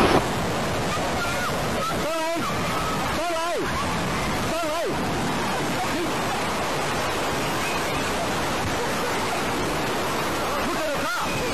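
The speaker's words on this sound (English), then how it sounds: "Look at the waves coming!" Ocean waves surge toward shore in a constant loud roar of surf and wind, with several brief voices calling out in bursts over the rushing water.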